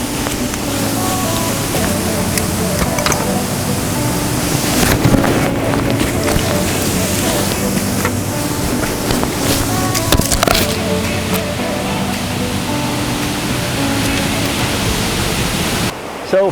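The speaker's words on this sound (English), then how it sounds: "the top of the falls with the water cascading over down into the pool below" Waterfall at Tower Woods cascading into a pool below, a loud, continuous broadband rush heard close, with some wind buffeting and handling bumps on the microphone.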